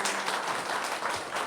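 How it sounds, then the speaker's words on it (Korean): Applause from a seated audience closing a session at a Korean conference, dense steady clapping filling the hall for a brief moment before cutting off abruptly. "우리 고생해 주신 5분한테 박수로 세션을 마치겠습니다"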